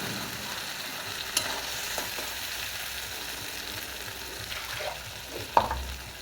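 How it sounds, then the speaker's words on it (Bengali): Mixed dal goes into a hot pan and gives a soft, steady sizzle with faint stirring scrapes and a sharp clink near the end. "এবার আমি ডালটা এর মধ্যে আমি ঢেলে দেবো।"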